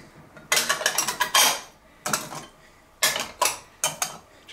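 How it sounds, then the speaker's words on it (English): Dishes clatter and clink as they are stacked into a pressure cooker rack, in several bursts of rattling with short pauses between, close and fairly loud. "how these dishes stack in there."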